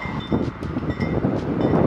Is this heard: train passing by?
yes